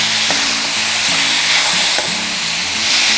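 Drumstick flower curry frying in a pan, a steady close sizzle with occasional stirring scrapes, continuous and loud with no voices.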